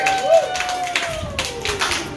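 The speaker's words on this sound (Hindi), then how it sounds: "तालियां बच्चों" Applause from a small family gathering at a Father's Day cake cutting at home, with children clapping in a dense patter beneath overlapping talk and a steady tonal hum.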